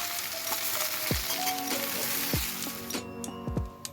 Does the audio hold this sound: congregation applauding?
no